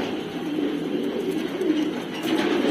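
Several Madrasi pigeons coo steadily together in a loft, a low, continuous burbling murmur that fills the space without pause.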